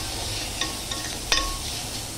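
Chopped tomatoes fry in a pan with a soft, steady sizzle, and a few light clinks of a utensil against the pan cut through.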